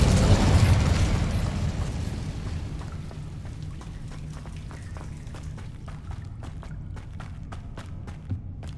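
A fiery Incendio spell bursts in the Hogwarts Legacy video game, a loud whooshing blast at the start that decays into a low rumbling roar with scattered crackles and pops.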